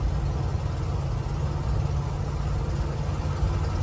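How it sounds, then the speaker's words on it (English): A Chevrolet 350 cubic inch V8 in a 1969 Chevrolet C10 pickup idles close by with a deep, steady, lumpy rumble that continues evenly without pause. "this has got the Chevrolet 350 cubic inch V8 turbo 350 transmission"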